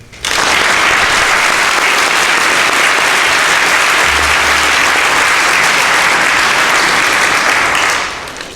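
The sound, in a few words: audience applauding nominated boys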